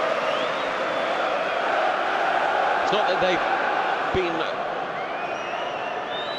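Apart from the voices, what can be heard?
football crowd cheering and applauding supportively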